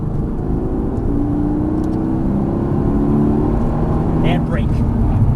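Mercedes-AMG GT S accelerating on a race track, a close, steady engine roar rising gradually in pitch while an instructor talks over it.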